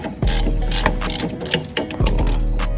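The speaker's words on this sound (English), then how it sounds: "loosening the bolt for the strut" Close and loud, a hand ratchet clicks in quick bursts as it loosens the strut bolt on a Dodge Scat Pack car. Short runs of rapid pawl clicks repeat in a steady working rhythm, with no talk over them.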